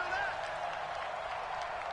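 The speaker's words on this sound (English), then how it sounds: "The crowd here in the Dome making things difficult." Stadium crowd roar inside a domed arena in a football video game, a steady dense wash of cheering under commentary.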